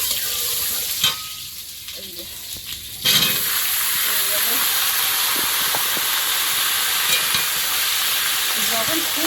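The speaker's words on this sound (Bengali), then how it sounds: "এটা শুক্তোর জন্য এই সবজি তেল দিয়ে দিই" Vegetables fry in hot oil for shukto in a village kitchen in the Sundarbans, giving a loud, steady sizzle and hiss. It dips briefly near the start, then runs on with faint stirring scrapes.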